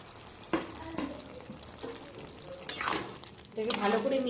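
Fried bhetki fish pieces stirred into a Bengali chorchori curry in a pan: a spoon scrapes and knocks against the metal several times, then a louder sizzling, clattering mix near the end.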